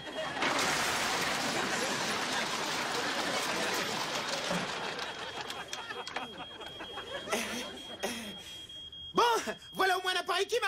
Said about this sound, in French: Comment on coupe cette alarme?